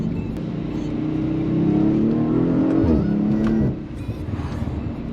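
A 2025 Audi RS5 engine rises in a steady, loud rev after a downshift, holding a rising drone for a couple of seconds before dropping off sharply into a lower hum, with no talking.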